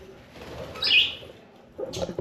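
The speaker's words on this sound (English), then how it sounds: "They got birds." Pigeons at a backyard spot with bird feed and water in Stockton, California, give a soft call and a brief fluttering burst, faint and slightly distant.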